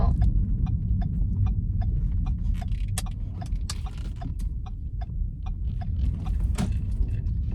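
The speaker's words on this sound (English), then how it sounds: "I'm driving down my street" A car drives down a residential street with a steady low road rumble heard from inside. Light regular ticking runs over the rumble, and no one speaks.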